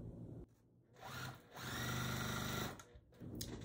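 A sewing machine stitches quilt block pieces in short bursts, a rapid mechanical whir that starts, pauses briefly, then runs longer and stops and restarts, close and fairly quiet with no voices.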